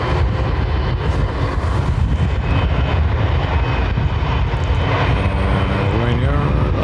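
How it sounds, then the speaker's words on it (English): An Embraer 190 jet departing Dublin Airport for Lisbon gives a loud, steady engine roar that holds throughout with no break, heard continuously without a pause. "Embraer 190."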